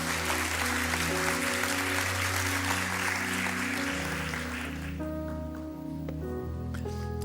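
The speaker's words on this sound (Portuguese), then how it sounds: "Dê o melhor aplauso que você pode dar ao Senhor" A church congregation claps together for the Lord in a dense burst of applause. The clapping thins out after a few seconds and leaves sustained keyboard chords playing on alone.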